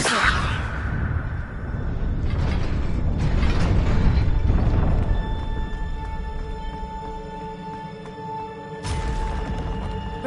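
Casting of the Leviosa levitation spell from Harry Potter: a sweeping magical whoosh with mechanical grinding and shimmering swells lasts several seconds, then settles into a steady ringing hum before a final fresh burst.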